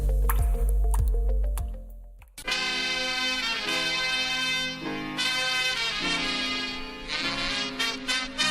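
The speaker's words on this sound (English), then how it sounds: "1 drip every second can add up to 5 gallons per day." Water drips from a leaky tap, with a few wet squishy plinks at the start, then bright ringing music takes over for the rest.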